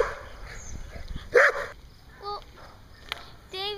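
A loose dog barks and yips outdoors in short, scattered bursts, some sharp and close, others fainter, amid light background noise.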